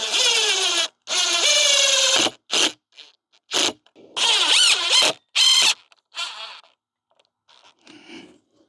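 Screws being driven to mount a solar LED street light, heard as a series of loud whirring, squealing bursts with short pauses, then fainter, scattered sounds toward the end.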